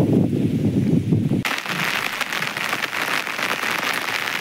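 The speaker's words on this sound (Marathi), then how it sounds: "आता बाहेर पाऊस" Rain pours down outdoors where bullocks are grazing, a dense steady hiss of drops drumming on surfaces, loud and close with no talk over it.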